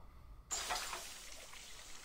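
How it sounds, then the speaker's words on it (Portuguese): Water pours steadily in the video game School of Dragons, starting abruptly with a splashy burst and settling into an even, moderately loud trickle that runs to the end without talk. "A gente tem que colocar a água."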